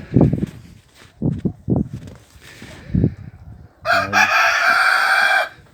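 Rooster clucking in bursts from a farmyard coop, then a loud, sustained cock-a-doodle-doo crow near the end, close and clear with no talk.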